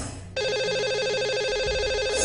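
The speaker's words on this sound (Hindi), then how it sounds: "तो लगाते हैं इन्हें अभी कॉल।" A telephone rings steadily after a brief quiet start, a loud repeating electronic trill placed as a live call on a Hindi morning radio show, continuing unbroken to the end.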